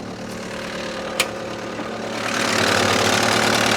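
A 2009 Caterpillar CAT 289C rubber-track skid steer loader idles steadily up close, a sharp click sounding early before the engine note grows louder and rougher as revs climb.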